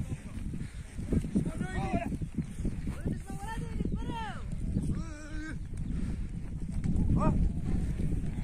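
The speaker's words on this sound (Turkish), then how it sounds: "Burada değişik inekler var." Cattle lowing in an open pasture with mixed breeds including Holstein and Simmental, several drawn-out moos spread across the clip, with people talking nearby.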